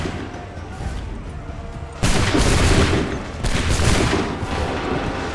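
Musket volleys in the video game Assassin's Creed III, with a sudden loud burst of massed gunfire at about two seconds and a second volley a little later, each rolling on in a sustained crackling roar.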